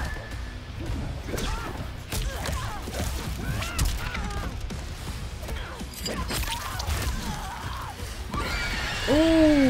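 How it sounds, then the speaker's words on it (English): Sindel, the Mortal Kombat 11 fighter, lets out a piercing, rising scream near the end, cutting through busy fight sounds of thuds, crashes and whooshes. "she just screamed her face off"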